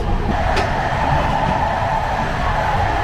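A Moroccan passenger train rolls along the rails with a steady, loud rumble and rattle heard from inside the carriage, broken by one faint click.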